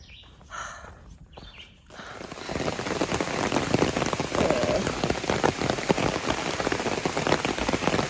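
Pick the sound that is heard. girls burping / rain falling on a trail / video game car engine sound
rain falling on a trail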